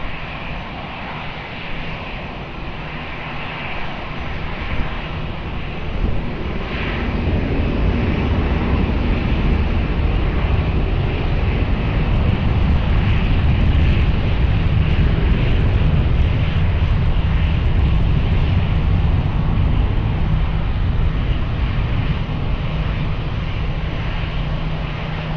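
An Airbus A320 rolls for departure at Lisbon Airport, its jet engines building from a quieter start into a loud, sustained roar that holds steady for the rest of the takeoff run, with no voices.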